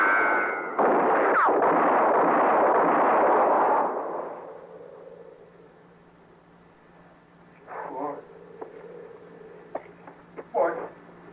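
A single loud gunshot booms in a Gunsmoke western radio drama, trailing off in a long echoing decay. After a quiet stretch, brief voices and small sounds follow.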